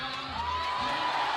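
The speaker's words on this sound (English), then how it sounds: "And everybody cheering now for Lea." A crowd at a bouldering competition final cheers and whoops for a climber, a broad continuous roar with rising shouts and a sustained whistle-like tone carrying steadily through the short moment.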